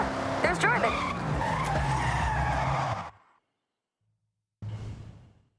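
A car in the Forza Horizon video game brakes hard with a long tire skid and engine noise for about three seconds. Silence follows, then a short, fading burst of sound.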